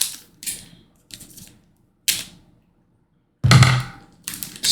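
Scissors snip open the top of a NASCAR trading card pack, giving several separate close, crisp cutting and crinkling bursts with short silent gaps between them and a louder rustle near the end.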